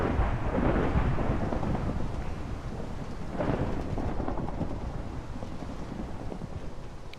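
A thunderstorm in the Minecraft GregTech New Horizons modpack, with continuous heavy rain and rolling thunder rumbling loudly throughout, swelling again midway.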